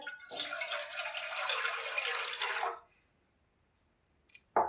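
Water poured from a glass into a pot to make tea, a steady splashing gush lasting a few seconds that stops abruptly, followed by quiet and a brief clink at the end.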